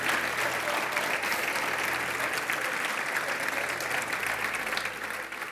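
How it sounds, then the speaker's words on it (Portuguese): A church congregation applauds loudly and steadily for about five seconds, a dense wash of hand claps that eases slightly toward the end. "dê uma salva de palmas bem forte ao Senhor Jesus"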